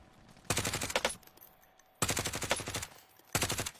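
Automatic weapons fire in a shooter video game as three rapid bursts of gunfire, loud and close, separated by short gaps of quiet.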